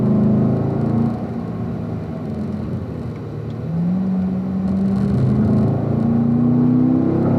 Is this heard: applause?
no